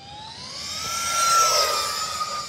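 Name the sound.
RC ducted fan jet sounding like siren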